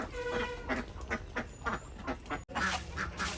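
Ducks on a farm eat and quack close by, giving off a repeated run of loud, rhythmic quacks with only short gaps between them.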